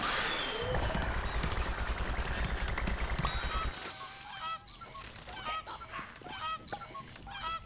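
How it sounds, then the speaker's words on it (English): A novelty cuckoo hat in Plants vs. Zombies Garden Warfare 2 lets out a run of honking, squawking bird calls. They follow a loud burst of game noise and repeat in an uneven rhythm. "It's my cuckoo hat. You want to hear it make a noise?"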